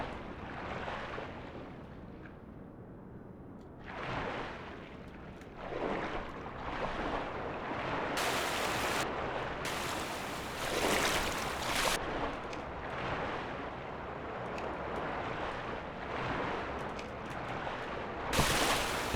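Splashing and sloshing water as a character plunges back into water in the video game Black Mesa, with steady watery rushing and bursts of brighter hiss, fairly loud throughout and no talking.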